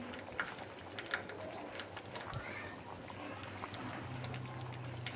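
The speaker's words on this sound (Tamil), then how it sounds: "கடுகு நல்லா பொரியட்டும்." Mustard seeds splutter and pop in hot oil in a pan, with scattered sharp crackles over a soft sizzling hiss while cooking an ivy gourd stir-fry.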